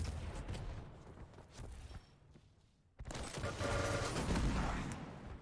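Rocket launcher blasts in a Quake match from the QuakeCon 2019 tournament, dense bursts of explosive thuds and rumble that drop to a quieter lull near the middle before a sharp loud blast restarts the barrage.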